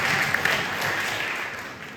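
A church congregation claps together in a thick, steady wash of applause that fades slightly toward the end, close and fairly loud, with no speech over it.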